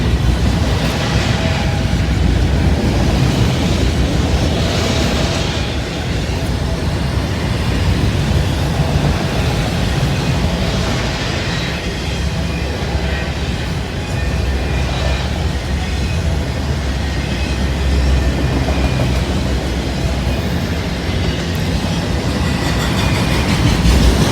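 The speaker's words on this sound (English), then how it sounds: "Two really sharp looking locomotives there. Brand new." A freight train led by two brand-new locomotives hauls loaded auto racks past close by: a loud, steady rumbling roar with rattling wagons and wheel clatter that lasts throughout.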